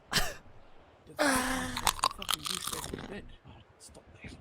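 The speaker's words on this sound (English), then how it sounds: "please chew your chips softly, please" Loud crunching of chips being chewed close to a microphone, with bursts of crisp crackling and rustling amid brief vocal noises.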